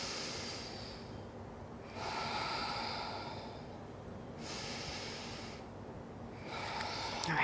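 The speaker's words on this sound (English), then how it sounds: "let's take 2 deep breaths together" Two slow, deep breaths are drawn and released in unison during a slow kids' yoga flow for young athletes. Each airy inhale and exhale stretches over a couple of seconds, close and soft, with no speech.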